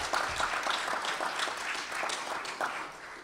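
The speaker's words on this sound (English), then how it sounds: "Let's give one last round of applause to our panel." A small audience claps for a panel at the close of a discussion, giving a brief, fairly quiet round of scattered applause.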